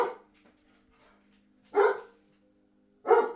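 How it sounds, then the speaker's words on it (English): Two loud, sharp dog barks spaced over a second apart, close by, after a quieter stretch with faint background sound. "Why are we barking?"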